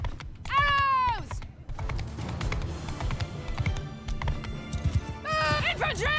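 Many horses' hooves clatter in a continuous drumming gallop in the Mount and Blade Bannerlord battle, loud and near, with horse whinnies at the start and end and shouted voices mixed in.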